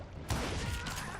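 A gunshot rings out in the Western shooter Call of Juarez: Gunslinger, a sudden loud crack at about a third of a second followed by a dense, rumbling burst of gunfire-like noise that holds to the end.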